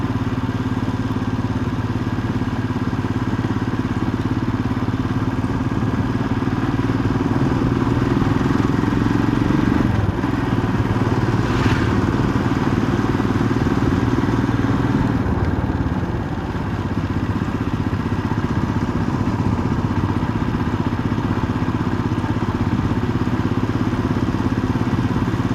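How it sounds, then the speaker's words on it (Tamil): A motorcycle with a dry, noisy chain drones steadily at close range, a continuous engine note with a rattling, clattering edge throughout and no speech. "செயின் பேக்கரில் ரொம்ப சவுண்டு வருது."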